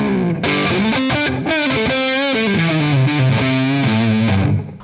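High-gain distorted electric guitar riffing on a PRS SE Zach Myers through a gain pedal, thick and saturated with chugging low notes and ringing chords, loud and continuous with no voices.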